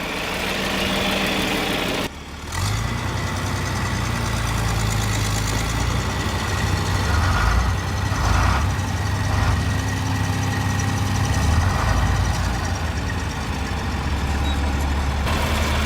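A heavy diesel engine on a 1963 John Deere 5010 tractor, restarted after sitting 20 years, runs steadily and loudly after a brief cutout, its low rumbling idle continuing with a slightly knocking rhythm.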